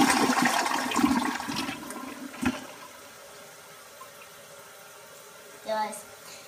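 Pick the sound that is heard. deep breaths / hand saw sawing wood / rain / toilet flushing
toilet flushing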